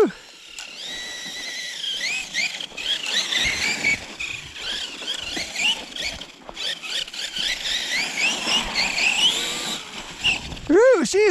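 Traxxas RC truck tears around a skate park, its electric motor whining in rising and falling sweeps as it speeds up and slows down, with a sharp squealing burst near the end and voices talking over it.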